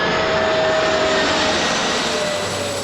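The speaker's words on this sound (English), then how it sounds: "The aircraft was now climbing directly into the flight path of the BA plane." A Czech CSA passenger jet roars loudly and steadily as it aborts its landing and climbs away, a sustained, close, powerful engine rumble with a thin whine running through it.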